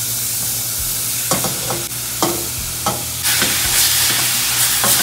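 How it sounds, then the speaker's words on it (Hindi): Cauliflower frying in a pan with coriander and spices, a steady close sizzle with several sharp scraping stirs of a spoon against the pan, no voices. "अच्छे से फ्राई होने देते हैं. सारा गोभी डाल देंगे धीरे धीरे करके."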